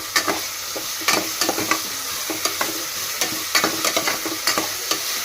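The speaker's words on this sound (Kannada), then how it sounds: "ಟೊಮೆಟೊನ ಇದು ಹಾಕೊಳ್ಳೋಣ್ರಿ ಹಾಕ್ಕೊಂಡು ಇವಾಗ ಮಿಕ್ಸ್ ಮಾಡ್ಕೊಳ್ಳಿ" Tomatoes being stirred into a sizzling masala in a pan, with repeated scraping strokes of a spoon at an irregular rhythm over a steady close-up frying hiss; no voices.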